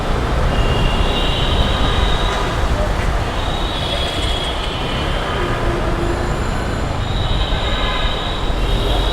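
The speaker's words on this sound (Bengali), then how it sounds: "আমি মিরপুর এগারো মেট্রো রেল স্টেশনটি অতিক্রম করছি" A metro rail train passes Mirpur 11 station in Dhaka, a loud, steady rumble with faint wheel squeal blending into street traffic noise throughout.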